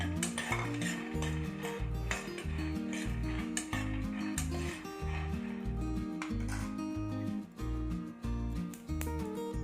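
Peanuts dry-roasting in a heated pan for peanut chutney, with steady scraping and stirring clatter of a spoon against the pan over a soft sizzle, continuous and close throughout.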